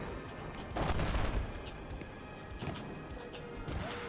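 Video game gunfire with a sniper rifle, heard as several heavy booming shots and crashing impacts over a dense, noisy battle background, no talk.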